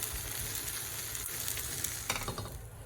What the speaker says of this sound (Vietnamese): Mình mở lửa lên, mình sên cho cái đậu này nó sánh mịn lại nha.